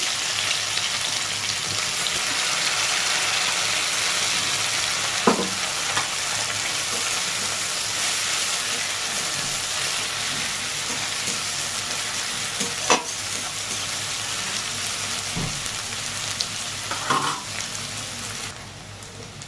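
Chopped onion hits hot oil in a pan already holding cumin seeds, dried red chilies and bay leaves, for a pointed gourd and shrimp dish. A steady, loud sizzle runs throughout, broken by a few sharp clicks of stirring.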